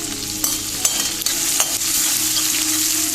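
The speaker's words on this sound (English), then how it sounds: "Now I am gonna saute it." Ginger and garlic sauté in a hot pan with a steady, bright sizzle, broken by a few sharp scraping stirs of a spatula, close and continuous with no talking.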